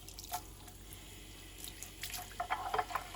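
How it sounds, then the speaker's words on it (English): Tap water runs into a small jewellery cleaning bath, a faint trickle broken by sporadic drips and light splashes that grow busier and more frequent toward the end. "get the water back on."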